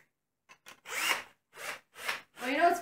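A power drill boring holes while a Hot Wheels toy car keychain is made, heard as four short separate bursts of whirring and grinding, each lasting under half a second, the last rising slightly in pitch.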